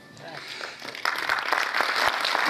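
An audience applauds after a dance performance, the clapping swelling into a dense, steady patter from about halfway through, with a voice running beneath it.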